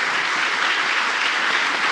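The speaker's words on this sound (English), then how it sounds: "But let's give him a round of applause first." Dense, steady audience applause during a live interview event at Halifax Central Library, with even, continuous clapping and no talking.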